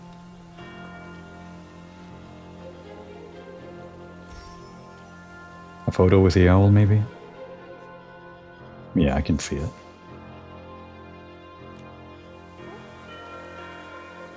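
Steady rainfall from the video game Infinity Nikki patters evenly through the whole stretch, with background music, while a person speaks briefly twice over it.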